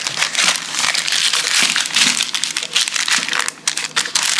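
Wrap around a chilled roll of garlic scape butter is untwisted and unrolled, producing close, continuous crinkling and crumpling with a brief lull near the end.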